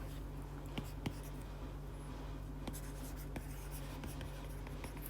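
Pen scratching on a writing surface, soft irregular strokes close by under a steady low hum, faint and continuous for several seconds.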